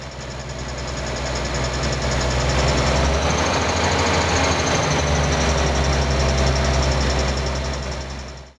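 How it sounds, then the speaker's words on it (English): A classic car engine runs steadily with a rough mechanical clatter from a failing alternator, a loud continuous rattle over a low engine drone, close by with no talk. "Removing the fan belt stopped this clattering"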